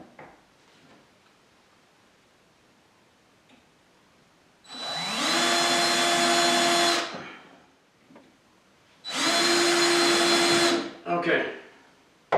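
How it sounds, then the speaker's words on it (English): A power drill bores hinge holes into a wooden cabinet door for a hutch, in two sustained whirring bursts of about two seconds each, separated by quiet, with faint shop noise before, between and after. "I'm going to drill right into the center"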